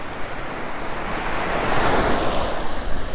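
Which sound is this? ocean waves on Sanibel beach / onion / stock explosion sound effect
ocean waves on Sanibel beach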